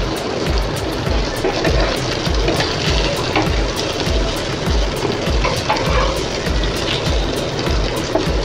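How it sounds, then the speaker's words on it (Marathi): Surmai kingfish fries on a hot tawa in oil with a steady, close, broadband sizzle and a rhythmic low thumping underneath, with no voices. "व्यवस्थित सगळे मासे आपले छान तळले जातील."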